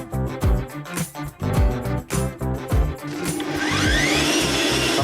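An electric mixer beats cake batter of eggs, butter and sifted dry ingredients, first in choppy bursts and then a steady, loud, close whir as it runs at full speed.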